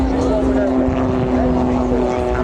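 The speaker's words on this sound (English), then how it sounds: "And this auto gyro." An autogyro flies past at an air show, its engine and rotor making a loud, continuous droning hum with a steady tonal buzz that stays close and unbroken for the whole moment.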